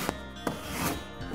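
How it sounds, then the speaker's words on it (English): A rasp scrapes along a drywall outside corner on metal track in a few short rough strokes, close and fairly loud, with no talking. "So I want to just take my rasp"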